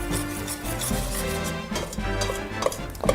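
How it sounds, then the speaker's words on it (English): Spoon stirring powdered sugar into a bowl of melted chocolate and butter, a steady close scraping and clacking with a few sharper knocks near the end, no talking. "now I'll stir that into the chocolate and the butter till it's nice and smooth"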